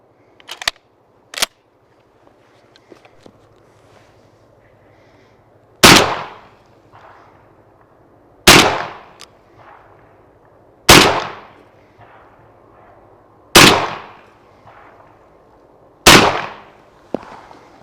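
Five loud, sharp blasts from a MAC 1014 shotgun firing Federal 1 ounce slugs ring out at regular intervals of about two and a half seconds, each with a short echoing tail, after two earlier distant pops.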